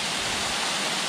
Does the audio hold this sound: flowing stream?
yes